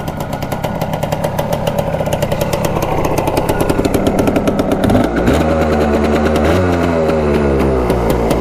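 A loud, close ATV engine revs and runs roughly, rising in pitch as it accelerates and shifts through gears.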